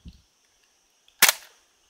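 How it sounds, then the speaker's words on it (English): A Nerf N-Strike Elite Strongarm blaster fires a single dart outdoors: one sharp, close pop with a short rattle tail, after a brief faint handling sound and then quiet. "let me fire this dart, let me fire another angle shot"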